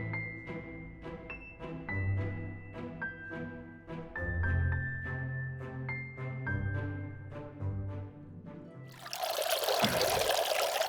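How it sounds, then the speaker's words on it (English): Water trickles and pours as it drains from a freshly watered plant container at a garden show, a brief splashing rush arriving near the end after a stretch of gentle melodic music. "let it drain"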